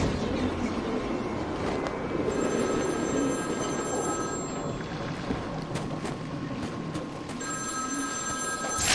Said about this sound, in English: Answer my phone and answer it quick,